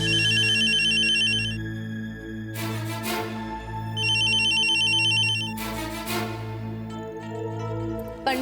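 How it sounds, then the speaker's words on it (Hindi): Mobile phone ringtone ringing in a melodic repeating pattern, loud and close, cycling through several rings with short chiming bursts between them. "ये शेखर मेरा फोन क्यों नहीं उठा रहा?"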